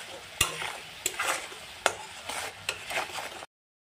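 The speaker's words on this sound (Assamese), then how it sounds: "মছলাখিনি ধুনীয়াকৈ তেলত ভাজি ল'লোঁ।" Spices frying in oil while being stirred for an egg and potato dum, with soft sizzling and several sharp scrapes of a spoon against the pan, close and fairly quiet, no voices.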